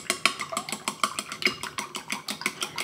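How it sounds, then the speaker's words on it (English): Four eggs are lightly beaten in a bowl. A fork or whisk clicks quickly and evenly against the side in a steady rhythm, up close and without talk. "I'm using 4 eggs. And I'm going to lightly beat the eggs."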